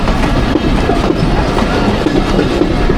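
A train rumbles along steadily through rural Bangladesh, wheels clattering over the tracks with a continuous loud, close rolling noise.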